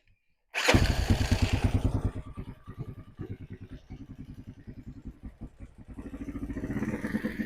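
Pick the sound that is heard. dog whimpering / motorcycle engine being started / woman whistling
motorcycle engine being started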